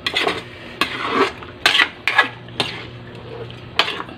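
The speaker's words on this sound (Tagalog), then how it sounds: "Kayurin natin yung ilalim kahit nakakangilo dahil malasa yan." A metal utensil scrapes and stirs the bottom of a pan of sautéed chicken with green beans, giving a series of sharp, close, rasping scrapes in uneven bursts with short pauses between.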